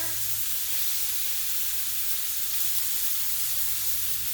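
Sea scallops sear in a hot pan, giving a steady, close, even sizzle that holds for the whole stretch with no talking.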